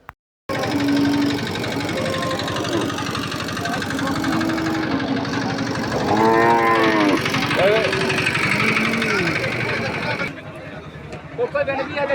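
A cow moos a few times at a busy livestock market in Harogaj, Saturia, Manikganj, with low, drawn-out calls rising over steady crowd chatter and market noise.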